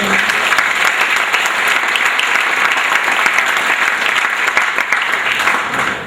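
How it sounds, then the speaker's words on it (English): A large room of guests at a school sports banquet claps in a loud, sustained round of applause that holds strong from start to finish, with faint crowd murmur beneath. "So please, another big round of applause for all of them."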